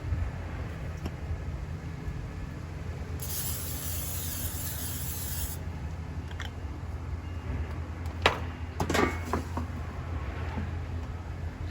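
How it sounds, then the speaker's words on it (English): A single hissing cooking spray on an air fryer basket lasting about two seconds, close by, against steady low background hum, followed by a couple of light clinks. "let's spray the air fryer basket with a cooking spray"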